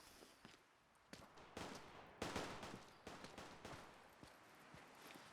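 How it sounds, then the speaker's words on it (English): Bursts of distant gunfire crackle in Fallout 4, scattered single shots and short volleys rising and falling over several seconds, faint and far off. "Gunfire's died down a little bit."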